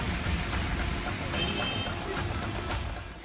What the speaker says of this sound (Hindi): लगातार हो रही तेज बारिश के कारण शहर के कई निचले हिस्सों में जलभराव की गंभीर समस्या है।